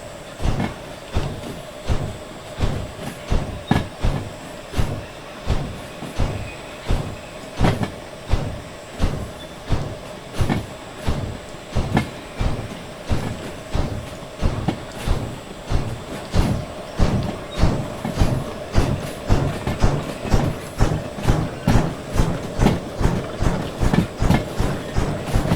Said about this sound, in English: Runaway train.